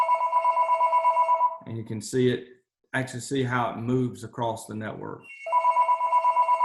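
A telephone rings with a steady repeating electronic trill, stops while a person talks, then resumes ringing at the end at the same level.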